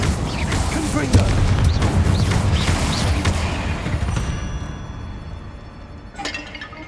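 Confringo blasting spell cast in Hogwarts Legacy, a loud booming burst with crackling, clinking debris that decays into a fading tail over several seconds.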